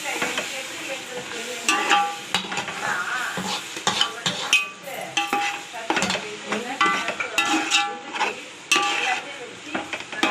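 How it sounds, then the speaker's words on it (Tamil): Ginger garlic paste sautéed in a pan for Chennai-style kalyana biryani: continuous sizzling with frequent, close scraping and clinking strokes of a metal spoon against the pan throughout, and no talking. "இஞ்சி பூண்டு பேஸ்ட் போட்டிருக்கோம். நல்லா போட்டு வதக்கிக்கலாம்."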